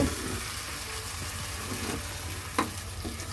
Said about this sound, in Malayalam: ഇനി നമുക്കിത് നന്നായിട്ടൊന്ന് മിക്സ് ചെയ്ത് കൊടുക്കാം